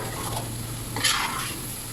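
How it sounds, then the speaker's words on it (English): Basmati rice and vegetables coated in masala saute gently in a pan over a low flame. A soft, continuous sizzle runs under light stirring scrapes, with one brief brighter swell midway. "We are going to saute this together for about 2 minutes on low flame"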